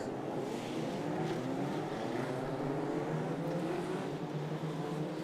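Legends race cars pulling away at the start of a race at Mondello Park, a steady droning blend of several engines at a distance, continuous and even in level, with no talking over it.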